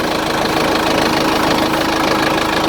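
Cummins diesel engine in a Branson farm tractor running at idle, a loud, steady rhythmic knock and rumble held close and constant with no voices.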